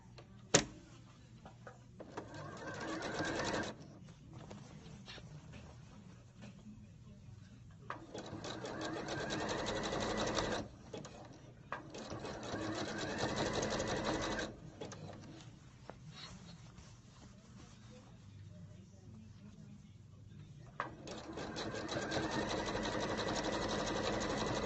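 A sewing machine zigzag-stitches elastic onto jeans in several whirring bursts of a few seconds each, separated by short pauses, close and steady with a mechanical rattle.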